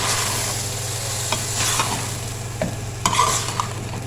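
Potatoes, peas and green chilies fry in a pan, the spoon scraping and tapping in irregular strokes over a loud, steady close sizzle, heard on their own.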